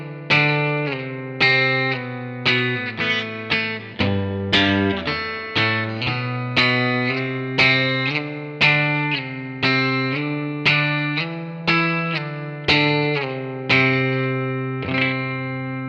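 Electric guitar with effects plays the lead line of a song slowly, a steady procession of distinct sustained notes each struck cleanly, loud and close with a chorus-like shimmer, no voice over it.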